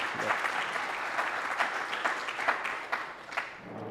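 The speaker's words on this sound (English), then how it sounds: "A round of applause." An audience at a Michael Lewis talk in New Orleans gives a round of applause: steady, full clapping from a sizeable crowd that thins slightly toward the end.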